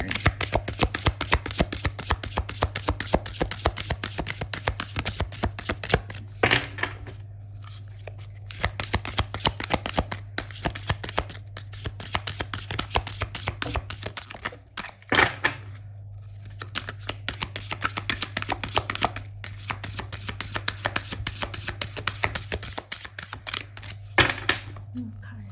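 A deck of cards being shuffled up close, with continuous rapid riffling and flicking in several bursts separated by brief pauses, plus a steady low hum underneath.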